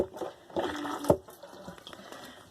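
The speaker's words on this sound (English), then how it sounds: "This is the sink. The water actually works." Water from a hand-pumped sink in a vintage 1958 Aljo camper flows in short, close splashing bursts, rising and falling with each stroke of the pump.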